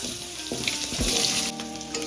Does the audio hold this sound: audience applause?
no